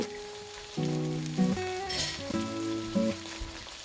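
Panang curry paste sizzles as it cooks in a pan for panang curry fried rice, a soft continuous frying hiss partly masked by loud melodic background music.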